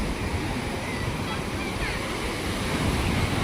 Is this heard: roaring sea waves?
yes